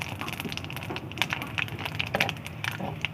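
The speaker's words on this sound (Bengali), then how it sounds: "ফোড়নটা হালকা করে ভেজে নেব।" Panch phoron five-spice, with bay leaf and small dried chilies, crackles in hot oil for a Bengali rui fish curry, a dense run of close, sharp pops and spits over a steady low sizzle.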